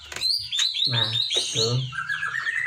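High, thin chirps from white-rumped shama chicks being fed, close by, mixed with someone speaking a couple of short words over them.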